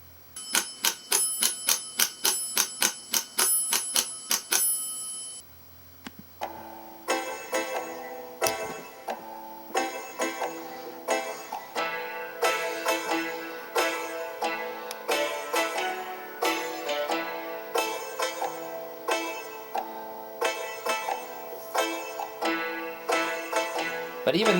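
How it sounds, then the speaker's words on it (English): Steady, evenly spaced metallic ticks repeat in a regular rhythm, joined after a brief pause by a pitched percussive pattern continuing at the same tempo. "So this is one of the ones that I picked that seems to me sounds more like metronome."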